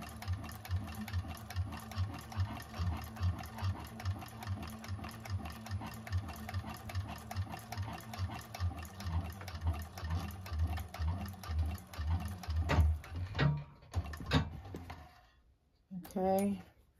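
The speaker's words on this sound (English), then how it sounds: "So it just takes a second just to run another seam down it." A 1341 cylinder arm sewing machine stitches a seam on a vinyl bag, a quiet rapid rhythmic chatter running steadily, then stopping with a few handling knocks and a short burst at the end.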